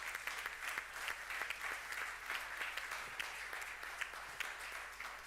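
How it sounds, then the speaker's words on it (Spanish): Steady applause from a large crowd, dense clapping that holds at an even level throughout with no voices standing out. "Un aplauso para ella"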